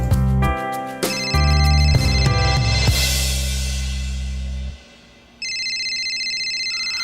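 A phone ringtone plays loudly for an incoming call, a repeating electronic melody that fades out, then a second bright electronic tone starts after a short gap.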